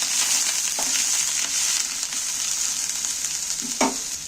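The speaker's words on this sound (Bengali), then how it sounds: "এবার আমি পটলগুলোকে একটু তেলের মধ্যে নাড়াচাড়া করে ভেজে নেব" Pointed gourd (potol) pieces fry in hot oil with a bright, continuous sizzle close by, broken by two sharp scraping stirs of a spatula against the pan, no voices.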